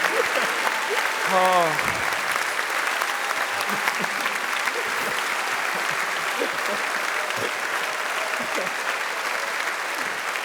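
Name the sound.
audience applause at convention panel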